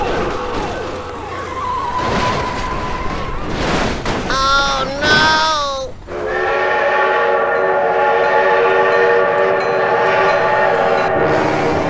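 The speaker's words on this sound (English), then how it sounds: "Train!" A train passes in the video game BeamNG.drive with a loud rumble, a few short horn blasts, then a long, steady horn held over the rolling clatter.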